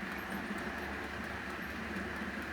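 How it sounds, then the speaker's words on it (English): A model train runs along the tracks of a home model railway, giving a faint, steady rolling rumble with light ticking for the whole stretch. "even the sound of it going along the tracks, it does sound like a train"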